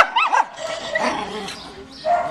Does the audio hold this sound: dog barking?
yes